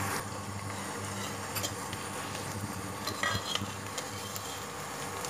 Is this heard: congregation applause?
no